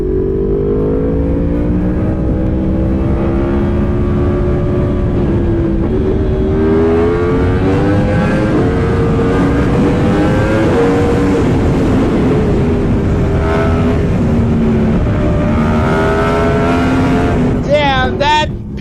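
A Yamaha R1M motorcycle fitted with a titanium exhaust revs loud and close, engine pitch rising and falling in long sustained pulls before a sharp crackle near the end.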